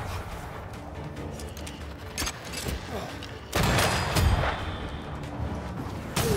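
Weapons fire in Banishers: Ghosts of New Eden, with sharp cracks and a loud booming burst midway, mixed with combat noise while a person talks over it.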